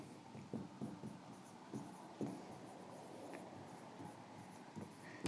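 Chalk or marker scratches and taps on a board in a classroom lecture, a faint run of short irregular strokes over steady room hiss.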